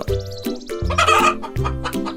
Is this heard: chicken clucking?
yes